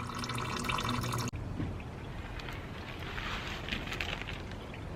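Coolant drains from a car radiator during a replacement job, a continuous splashing, trickling pour that follows a brief mechanical noise at the start, close and fairly loud, with no talk.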